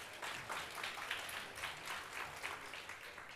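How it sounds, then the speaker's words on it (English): Audience applause for a contest winner at a conference summit, a steady wash of many hands clapping at moderate level, continuous and fairly distant throughout. "Round of applause for William."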